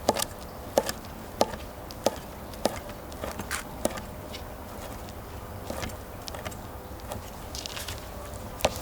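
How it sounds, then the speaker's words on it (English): A knife slices cooked chicken on a cutting board with a run of sharp, evenly spaced thunks, about one a second at first and then softer and less regular. "Slice them long ways, and then we'll come back and slice them the opposite direction."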